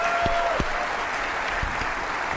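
An audience at the Bitcoin 2023 conference applauds, producing a broad, even roar of many clapping hands heard from a distance, with a few louder nearby claps and thumps standing out.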